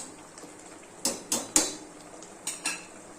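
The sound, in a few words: closing the lid of a pressure cooker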